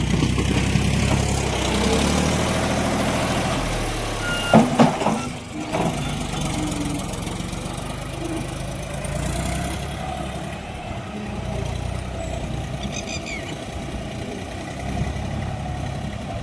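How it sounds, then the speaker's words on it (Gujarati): A loader tractor working on soft, wet ground runs its engine in a steady low rumble. A few brief clanks sound partway through, and no one speaks. "લોડર ટ્રેક્ટર એનું તો કામ બેખૂબીથી સારી રીતે નિભાવી રહ્યું છે"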